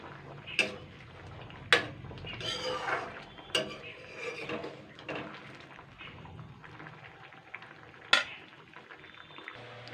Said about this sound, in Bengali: ডালের বড়াগুলো দিয়ে আমি তিন চার মিনিট ফুটিয়ে নেব